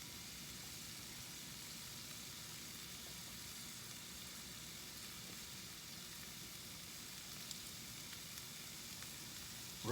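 Vegetables, garlic, bean sprouts, green onions and carrot for pad thai fry in a pan, giving a faint, even sizzle and hiss that carries on steadily without a break.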